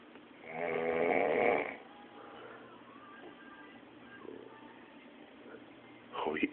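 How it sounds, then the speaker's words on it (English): A person asleep in bed lets out one loud, rasping snore, followed by quieter breathing and a faint stir at the end. "Look at you snore like a motherfucker like that."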